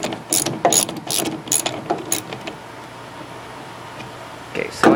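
Ratcheting clicks from a wrench loosening 5/16 bolts on a Ford truck tail light, in quick bursts over the first couple of seconds, then quieter handling and a final clatter.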